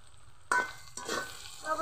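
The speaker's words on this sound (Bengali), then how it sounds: "দিব গ্রেট করা রসুন, ভালো করে কষিয়ে নিব।" Grated garlic sautés with onion and tomato for palong chingri, starting with a sudden loud sizzle as it hits the pan, then a second burst and scraping stirs over a bubbling hiss.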